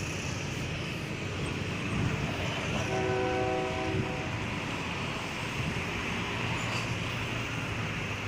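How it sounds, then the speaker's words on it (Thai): A train rumbles past a road level crossing near Bang Sue station in Bangkok at steady volume, a broad continuous roar with faint tonal whines rising briefly in the middle. "ก็เดี๋ยวได้รับชมรถไฟ ยาวๆเลยนะครับ"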